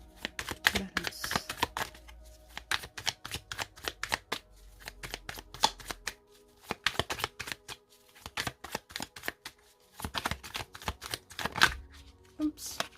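Tarot cards shuffled and cut in rapid bursts of dense riffling clicks, broken by short pauses, close and fairly loud, with a little quiet talking mixed in.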